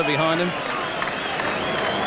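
A boxing crowd applauding a fighter at a 1994 bout, a brief burst of clapping and cheering under a commentator's voice.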